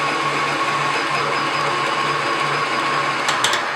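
An electric mixer beating red velvet cake batter with a steady, whirring motor drone at even volume, with a couple of brief clicks near the end.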